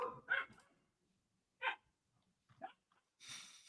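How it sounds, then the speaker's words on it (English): Dog barking outdoors at night, a few sharp distant barks spaced apart with quiet gaps between them, followed by a brief rustling hiss. "She never barks, like never barks. And tonight, she's just going bananas out there."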